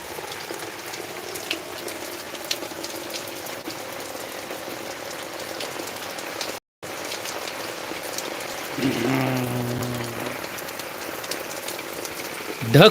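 Morning rain falls steadily on a farm, an even wash of patter that drops out for a moment before resuming. Near the end a low tonal hum rises under it, and a voice may be faintly present.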